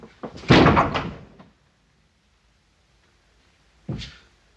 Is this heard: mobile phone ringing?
no